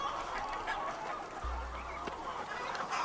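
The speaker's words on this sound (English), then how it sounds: "the chickens scratch through the cow patties, eat out the fly larvae" Free-range chickens in a cattle pasture, scratching through cow patties behind the herd, give close, loud honking clucks and squawks over an outdoor background.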